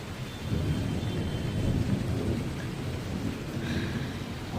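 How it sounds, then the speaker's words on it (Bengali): Low thunder rumbles softly and continuously with steady rain falling, a gentle, distant storm with no voices. "এইরকম আস্তে আস্তে মেঘ ডাকলে তবু ভালো লাগে"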